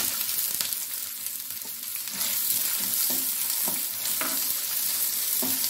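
Chopped onions sautéing in a pan for Kerala prawn thoran, a steady close sizzle with occasional scraping stir strokes from a spatula, no talking.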